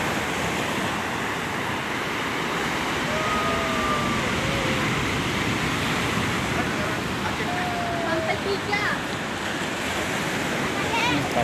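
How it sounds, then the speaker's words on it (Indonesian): Ocean surf rolls steadily onto a black volcanic-sand beach in Lombok, a continuous loud wash of small beginner-sized waves with wind noise across the microphone. "Tuh ombaknya lumayan, ini buat surfing pemula karena ombaknya nggak terlalu besar."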